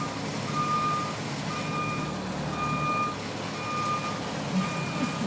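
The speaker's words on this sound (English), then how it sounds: "backing the bus in between the cones without hitting the cones" Bus reversing beeps repeating in a steady, evenly spaced rhythm while the bus backs between traffic cones during a brake test, with a low engine rumble underneath and no talk.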